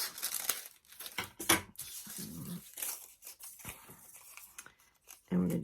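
Crepe paper is cut with scissors for a handmade pine cone, with several quick snipping and crinkling bursts separated by short pauses, close and fairly loud, and a brief rustle at the end.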